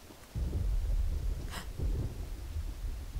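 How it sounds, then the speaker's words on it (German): A low rumble of thunder rolls through a Garry's Mod game world, a deep sustained roar swelling early and lingering at moderate level, with a brief hiss midway and no talk. "Gewitter?"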